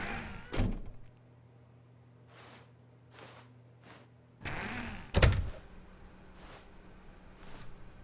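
A door in The Stanley Parable game opens with a clear thunk, then a louder slam a few seconds later, set against a steady low hum and soft, spaced footstep-like taps with no talking.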